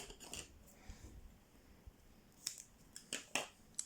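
Scissors snipping paper and ribbon during scrapbook crafting, a few sharp, quiet cuts scattered irregularly, clustering toward the end, with faint handling rustle between.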